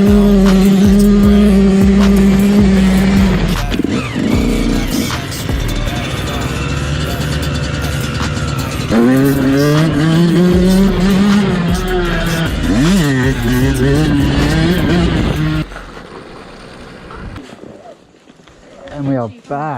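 A rebuilt Yamaha YZ125 two-stroke dirt bike engine revs loudly and close, its pitch rising and falling repeatedly, then cuts off and leaves near quiet with faint noises.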